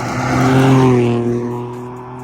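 A Ford Fiesta ST Mk8 three-cylinder engine revs up loudly and then falls away, a rich, raspy growl with strong harmonic tones rising and fading over about two seconds, close and alone.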